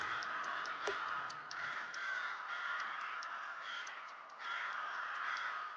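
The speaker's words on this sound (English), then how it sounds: "Are these crows attacking me?" Crows caw repeatedly in a small indie video game, a dense, steady chorus of harsh calls throughout, fairly loud with faint ticking in the background.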